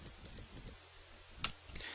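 Mouse clicks on the scroll arrows of a computer screen, a few sharp, close clicks spread across a quiet room, with a faint steady hum underneath.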